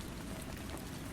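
Steady rain falls without pause, a soft even patter with no voices and no thunder.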